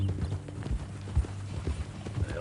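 Horse hooves clip-clop in Red Dead Redemption 2, a steady walking rhythm of close, distinct hoof beats over a low ambient bed.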